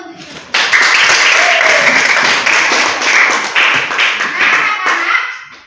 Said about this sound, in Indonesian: Tepuk tangan dulu untuk itu.